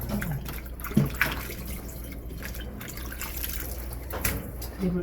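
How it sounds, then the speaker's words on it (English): Cabbage for kimchi is rinsed under running water, a steady splashing and trickling with a few louder drips and knocks, fairly close, with faint voices in the background. "So you have to rinse it off."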